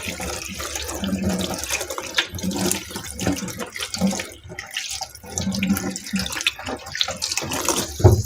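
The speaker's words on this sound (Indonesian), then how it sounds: "Kita cuci dulu ya untuk serainya." Lemongrass being washed under a running kitchen tap, with a steady splashing stream of water and shifting gurgles as the stalks are rinsed, close and continuous throughout.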